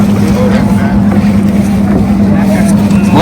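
A motorboat on the river at Prayagraj hums loudly with a steady low engine drone and water wash, close to the microphone, with faint voices in the background.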